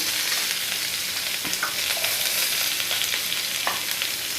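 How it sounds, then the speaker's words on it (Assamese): Whole cumin seeds and onion fry in a hot pan for a watermelon-rind dish, a steady close sizzle with occasional crackles and stirring clicks throughout. "এতিয়া অকণমান গোটা জিৰা দি দিছোঁ ইয়াতে আৰু এটা পিঁয়াজখিনি দিম এতিয়া"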